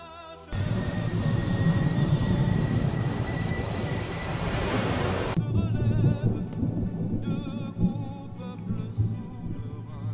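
An Air Force Emerald military airplane, built to withstand the worst storms, flies with a loud, steady roaring rumble that holds for several seconds and then eases into a rougher, uneven drone.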